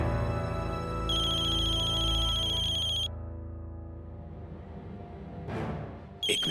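A phone ringtone rings in a Hindi TV drama scene, a bright repeating electronic melody over a low music bed for a couple of seconds before cutting off, with a brief whoosh and a snatch of ring returning at the end.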